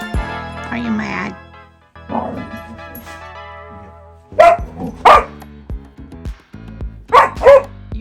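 A newly adopted dog gives several sharp yips and barks in two bursts with whimpering tones between, close and loud indoors, while people talk around it.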